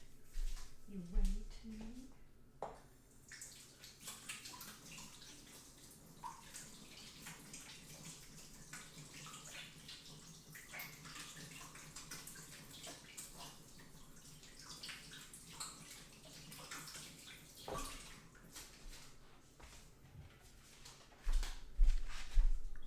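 Water runs steadily from a tap while a skin care product is rinsed off, a soft continuous splashing and gurgling, fairly faint and close, with some heavier bumps and splashes near the start and end.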